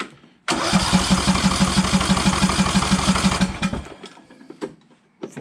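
A Briggs & Stratton lawn tractor engine cranks on its starter for about three seconds with a fast, rhythmic chugging whir, loud and close, but never catches before the cranking stops and the yard falls quiet.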